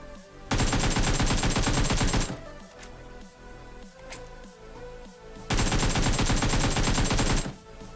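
Two long bursts of rapid automatic gunfire from an enemy squad in PUBG Mobile, each about two seconds of loud, tightly spaced shots, separated by quieter game ambience with a few distant single cracks.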